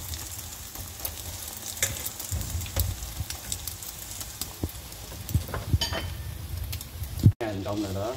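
Thin egg batter sizzles and crackles steadily in a hot, greasy pan, cooked like a bánh xèo crepe, with scattered louder pops up close and a faint voice now and then.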